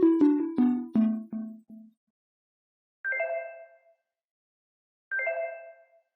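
A phone text message notification tone, a descending run of bright harmonic chimes followed by two separate repeated chime tones spaced about two seconds apart, clean and isolated with silence between.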